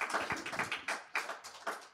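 Scattered clapping from a small audience at a mayoral candidates forum in Elgin, a few hands slapping in an uneven rhythm that quickly thins out, with no talking over it.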